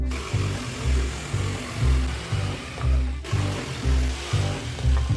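Power drill boring into a wooden sphere, a repeated pattern of loud grinding bursts with low rumble pulsing about once a second, close and continuous, with a brief pause midway.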